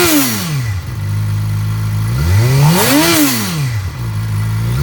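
A used 2013 Suzuki GSX-R600 middleweight supersport motorcycle engine runs loud and close, rising and falling through several rev sweeps with a steady idle between them and no talking.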